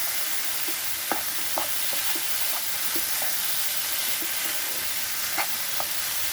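Salt stirred into poppy-seed potatoes frying in a pan, with a steady sizzle throughout and scattered light spoon scrapes and taps against the pan.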